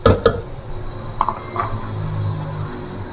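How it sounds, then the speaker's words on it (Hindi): Potato pieces are dropped into a pot of fried mutton for aloo gosht: a couple of sharp clinks and thuds at the start, then softer clatters and a low sizzle. "अब इसमें हम डालेंगे आलू।"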